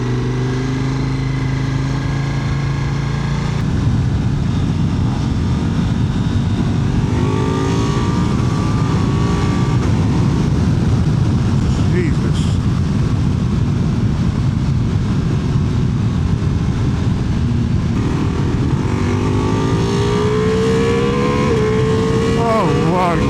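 A Ducati Multistrada V4 RS motorcycle engine drones loudly and continuously, rising in pitch through several gear changes as it accelerates, with wind rush throughout.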